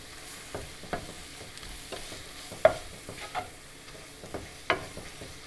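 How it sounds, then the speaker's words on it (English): A spoon stirs duck egg roast masala with tomato, onion and salt in a pan, quiet scraping and tapping strokes repeating irregularly over a faint sizzle. "Give it a good mix."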